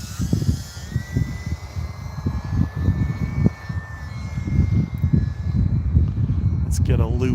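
An E-flite UMX Turbo Timber RC plane flies on a calm evening, its small electric motor whining steadily in the background while a nearby voice talks over it throughout.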